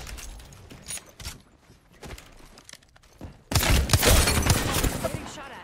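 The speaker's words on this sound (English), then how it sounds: "Getting shot at." Bursts of video game gunfire in Apex Legends aimed at the player, sparse shots early then a sudden loud dense volley in the last two seconds, with talk over parts of it.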